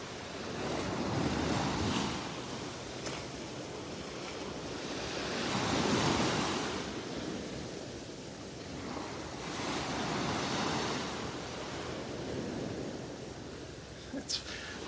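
Ocean waves roll in at Delnor-Wiggins beach on a morning walk, a broad continuous wash that swells and fades in slow surges, with wind rumbling on the microphone.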